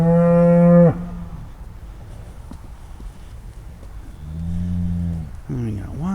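Beef cattle on a farm moo loudly and close by while being sorted for hauling. One long low call comes first, then more calls after a quieter pause, with light shuffling in between.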